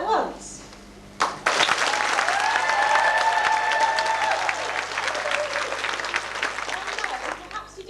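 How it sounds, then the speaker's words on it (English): A studio audience breaks into loud, sustained clapping and cheering that starts abruptly and fills the room, with whoops and shouts over dense applause before it gradually thins toward the end. "When I hold it up, we would appreciate it if you could clap and cheer and generally show your appreciation"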